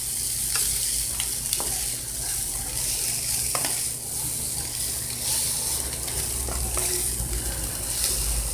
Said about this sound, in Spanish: Miren, ponemos la carnita. Y aquí vamos a revolver de esta manera.